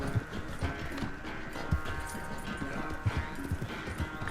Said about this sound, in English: Ô, cavalo.